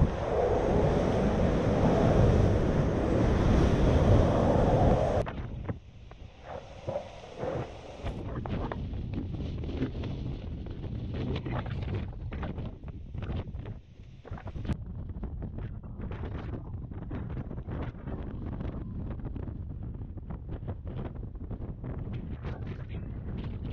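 Strong wind roars over the microphone at first in the eye of Category 5 Hurricane Dorian, then gusty buffeting and rushing surf continue with irregular thumps. No voices.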